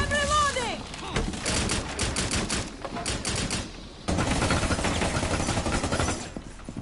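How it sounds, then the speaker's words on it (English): Rapid bursts of gunfire in the video game Rainbow Six Extraction, loud and dense, several volleys back to back with a brief break midway, with no talk over the shots. "I know I said I wouldn't shoot with my gun, but I did"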